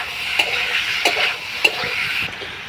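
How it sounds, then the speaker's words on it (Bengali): Pointed gourd and potato with prawns stir-fried in a pan in a village kitchen, with a constant sizzle and sharp scraping strokes of the spatula at irregular intervals, close and clear. "দিয়ে সবজিটাকে ভালো করে কষাবো"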